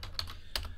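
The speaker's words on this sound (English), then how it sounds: "so I'll type in TWC in the chat" A few quick keystrokes on a computer keyboard, close-up crisp clicks in a short burst with no speech.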